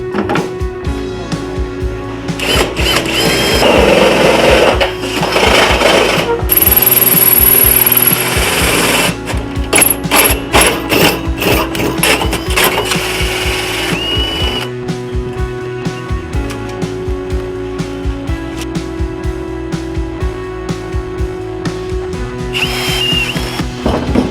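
A power drill whines and grinds through an aluminum boat console support in long loud bursts, with the pitch rising and dropping as pressure changes, and brief pauses between passes.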